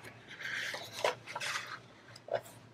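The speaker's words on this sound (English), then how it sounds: "So let me grab my trimmer." A paper trimmer slides and cuts through a glued craft piece, giving soft scraping rasps with a couple of faint clicks, quiet and close.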